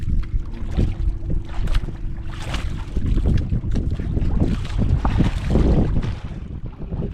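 A boat motor drones over gusty wind buffeting the microphone, with water sloshing and occasional knocks, fairly close and loud throughout.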